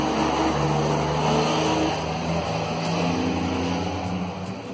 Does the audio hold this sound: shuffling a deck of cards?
no